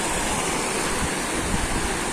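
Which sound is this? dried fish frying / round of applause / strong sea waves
strong sea waves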